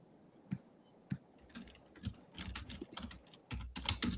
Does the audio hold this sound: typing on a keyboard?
yes